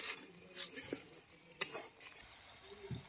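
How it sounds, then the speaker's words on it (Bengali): Spice paste with salt and turmeric being stirred and fried in a pan, with soft sizzling under scraping stirs and one sharp utensil clink near the middle, close and fairly quiet. "এবার ভালো করে মশলাটাকে কষিয়ে নেব"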